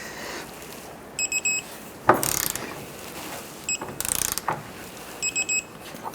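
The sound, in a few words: torque wrench tightening subframe bolts on Chevrolet Impala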